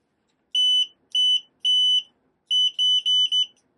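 A FNIRSI 2C53P handheld oscilloscope-multimeter gives loud, clear high-pitched continuity beeps, seven short tones in two groups, starting and stopping as the probes touch, alone in near silence.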